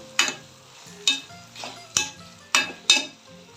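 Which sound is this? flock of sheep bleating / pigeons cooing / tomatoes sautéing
tomatoes sautéing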